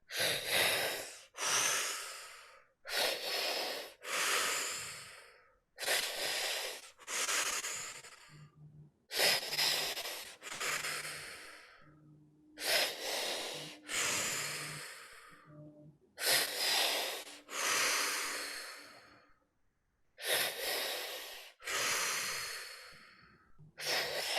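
Deep breathwork breathing runs in a steady cycle of long, forceful inhales and exhales, close to the mic, about a dozen full breaths with short pauses between and a faint tone in the background.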